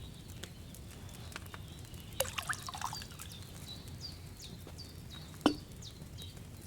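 Wine is poured from a pitcher in the video game Kingdom Come Deliverance II, a faint, quiet trickle with small splashes and clinks over a soft background hum.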